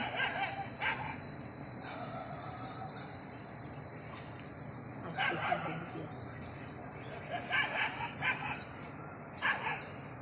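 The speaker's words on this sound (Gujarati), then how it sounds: "વાદરન કૂતરો લડાઈ છે શું કરે છે જોજે કૂતરો" A dog barks in short, repeated bursts while fighting a monkey outdoors, the yaps rising over a steady background with faint bird calls.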